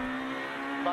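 From onboard Kopecky's rally car on a stage of the 2013 Jänner Rallye, the engine drones loud and close, then climbs sharply in revs as it accelerates right at the end.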